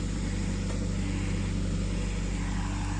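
A steady tractor engine drone runs throughout at a constant level, with no clear change in distance, in a village.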